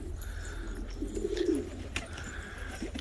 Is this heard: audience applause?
no